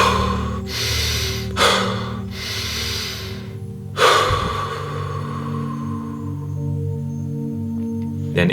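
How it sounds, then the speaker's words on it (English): Deep breathing exercise, slow drawn-in and released breaths close to the mic in long separated cycles over a low steady background hum. "just focus on breathing deep"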